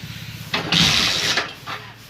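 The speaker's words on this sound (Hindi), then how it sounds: "ये देख सकते हो बाइक स्टार्ट है" A Hero Splendor BS6 motorcycle with a starting and misfiring problem cranks into life in a short, rough burst before settling to a quieter, uneven idle.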